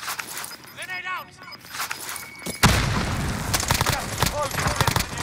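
A grenade blows up in a Call of Duty match with one sudden, heavy boom midway through. Rumbling, crackling noise carries on afterward, while voices talk during the first half.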